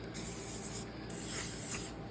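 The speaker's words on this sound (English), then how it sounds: "I'm just going to take some WD-40 and spray the ends of these rods" WD-40 aerosol sprayed onto the ends of engine connecting rods during a 400-to-500 stroker engine build, a steady close hiss of spray lasting about two seconds with brief pauses.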